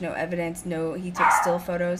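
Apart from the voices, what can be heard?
dog barking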